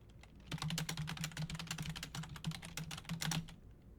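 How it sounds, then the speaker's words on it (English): Typing on a computer keyboard, a quick run of close, light key clicks lasting about three seconds. "you can type into this window"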